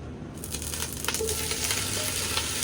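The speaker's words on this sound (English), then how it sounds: "What we'll do first, we're going to take our sausage and add our sausage in here." Sausage sizzles and spits in a hot pan for jambalaya: a steady, close, broadband frying hiss with small crackles and the odd clink of stirring, no voices.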